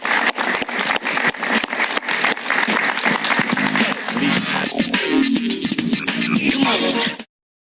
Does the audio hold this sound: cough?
no